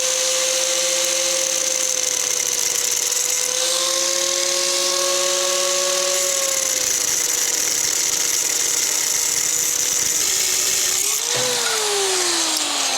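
Aluminum axle spacer stock being cut with a power tool for a chopper, a steady loud whine with sustained tonal ringing that shifts pitch and drops partway through near the end.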